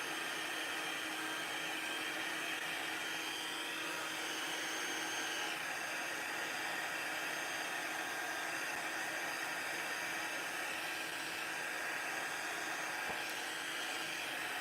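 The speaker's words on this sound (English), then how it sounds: "It takes about 15 seconds for the heat tool to heat to the temperature it needs to" A craft heat tool blows hot air to dry a home-decor piece, producing a steady, continuous whooshing hiss with a constant fan hum throughout, close and unbroken.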